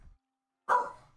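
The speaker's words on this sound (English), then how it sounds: "I don't know what the dog's barking about." A single short dog bark rings out after near silence in the World of Warcraft: Shadowlands game world, abrupt and moderately loud, trailing off quickly.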